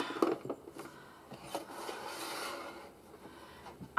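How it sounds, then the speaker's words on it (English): A tabletop guillotine cutter pressing through stiff craft material, giving a sustained scraping, rasping crunch with a few sharper creaks, close and moderately loud with no speech. "So I'm going to cut this off, hopefully using my guillotine."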